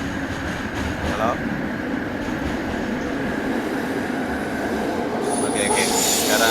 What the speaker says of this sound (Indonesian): Sekarang saya lagi di LRT.